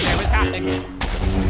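Explosive arrows blowing up in Minecraft, a few sharp bursts and crashes mixed into a busy game soundscape, with a voice talking over them close to the microphone.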